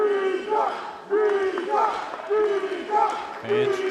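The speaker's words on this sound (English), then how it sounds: "Fans cheering for Jishan." Fans at a Carolina Gold Rush vs. Princeton Revolution match chant and cheer in repeated loud rhythmic bursts, voices rising together in waves over a steady crowd roar.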